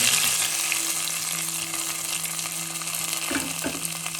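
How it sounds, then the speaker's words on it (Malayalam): Hot oil tempering with curry leaves poured into chicken mulakittathu, giving a steady, dense sizzle close by with a couple of brief clatters near the end. "താളിപ്പോൾ നമുക്ക് കറിയിലേക്ക് ചേർക്കാം."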